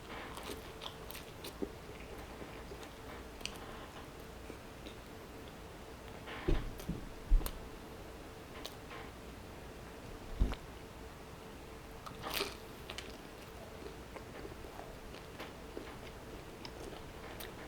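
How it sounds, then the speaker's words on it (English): Bites and chewing of a Domino's pan pizza, close to the mic and fairly quiet, with scattered crisp crunches and a few louder bite clicks spread across a long stretch without talk. "Big time crunch over here."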